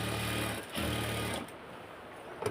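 A sewing machine stitches piping onto a half-band collar in quick, steady bursts, running loud and close with short pauses between runs and no voices.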